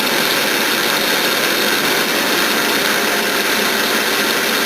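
A lathe takes a slice off a part held in a collar, producing a loud, steady broadband machining roar with no breaks, close and continuous, without voices.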